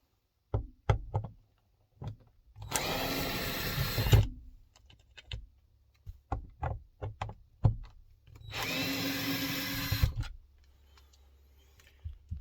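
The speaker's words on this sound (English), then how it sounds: "this time I am using a drill just because it is a lot quicker" A power drill whirs in two bursts of about one and a half seconds each, separated and surrounded by close knocks and clatters of handling, while blinds are installed in a Scamp camper trailer.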